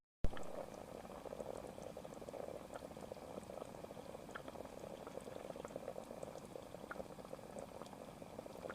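A pot of food bubbles on a portable gas stove at a camp spot, a steady close burble of boiling liquid with rapid irregular pops running unbroken throughout, no voices.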